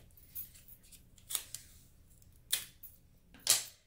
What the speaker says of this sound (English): in order to make it one continuous piece, I tape these 2 together